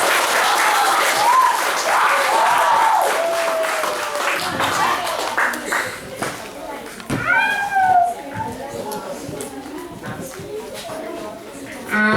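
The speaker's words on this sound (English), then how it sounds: "Let's see the lusty round of applause." Audience applause for summer camp kids at a children's concert, steady clapping that carries throughout, with excited children's voices and squeals rising over it partway through.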